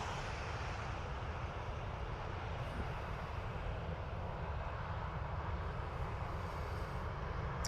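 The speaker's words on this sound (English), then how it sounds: "So 737-800 series off to Manchester." A Ryanair Boeing 737-800 departing Dublin Airport for Manchester, a steady, distant jet engine roar that holds at an even level throughout, with no voices.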